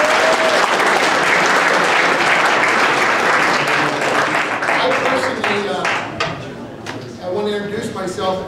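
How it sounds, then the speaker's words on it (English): Sustained audience applause fills a meeting room for a guest's first appearance of the year, loud and dense at first, then thinning into scattered claps with a few voices near the end. "Big round of applause."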